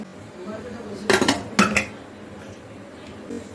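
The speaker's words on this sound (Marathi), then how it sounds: "आपण आता झाकण लावूया कुकरचं" Two sharp metallic clanks of a pressure cooker lid being fitted on, close by, with quiet room noise around them.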